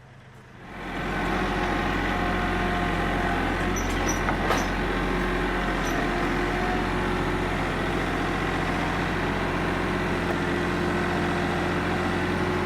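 A farm tractor engine rumbles to life after a brief quiet moment, then holds a steady, loud, low drone as it is driven over, with a faint clank midway.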